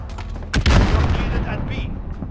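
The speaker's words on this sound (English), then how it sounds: "RPG ready? RPG! There, that's what I like." An RPG rocket launcher firing and exploding in Call of Duty (2019) multiplayer, a sharp loud boom about midway followed by a rumbling blast tail, with game noise throughout.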